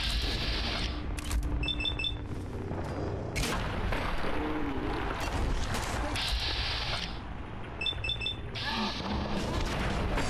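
Turrets fire in Fallout 4's Nuka-World DLC on survival difficulty, with loud, repeated crackling bursts of gunfire and booms layered densely through a continuous battle din.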